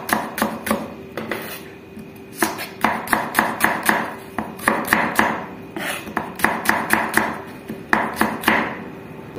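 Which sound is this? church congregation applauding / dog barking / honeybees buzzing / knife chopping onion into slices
knife chopping onion into slices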